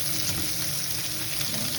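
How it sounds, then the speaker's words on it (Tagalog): Pork frying in its own rendered fat in a pan, a loud, steady, close sizzle and crackle filling the whole moment without any voices. "Piniprito ko muna siya hanggang maluto yung mantika niya"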